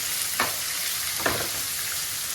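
Raw mango pieces fry in a pan for Ugadi pachadi, a steady close-up hiss of oil with two distinct stirring scrapes breaking through.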